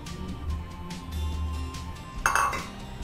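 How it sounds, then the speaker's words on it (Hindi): Dishes clink as a bowl is taken from a microwave oven and gram flour is added, with soft handling knocks and one sharper ringing clink near the end, no talk. "सबसे पहले हम ओवन से बाउल लेंगे, इसमें 1 कप बेसन डालेंगे"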